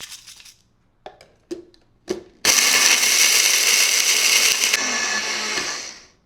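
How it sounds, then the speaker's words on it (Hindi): A mixer grinder's smallest jar grinds whole garam masala spices with a loud, steady roar that runs for about three and a half seconds, then winds down. A few sharp clicks and knocks come first as the jar is fitted onto the base. "चलो अब इसको पीसते हैं"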